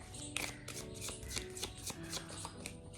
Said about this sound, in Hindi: आप अपने पर्सन के बारे में सोच सकते हैं जब तक मैं कार्ड्स को शफल कर रही हूँ।